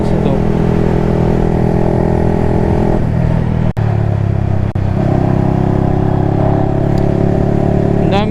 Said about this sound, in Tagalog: Ang dami ding motor.